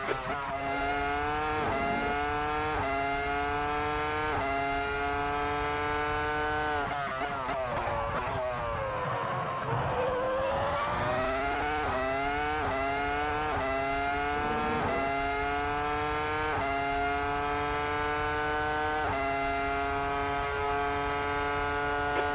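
A Ferrari F2004 Formula One car racing at Hockenheimring in a video game, its high-pitched engine whine holding loud and steady, then dropping through downshifts and climbing again as it accelerates, with no break in the sound.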